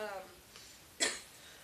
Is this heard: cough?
yes